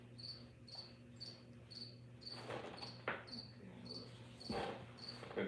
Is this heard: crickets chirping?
yes